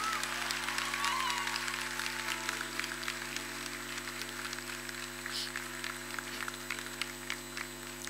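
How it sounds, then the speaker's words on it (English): Faint, scattered clapping from an audience at a bridal couture fashion show continues for several seconds, thin and distant, over a steady low hum. "a round of applause, rather a thundering round of applause"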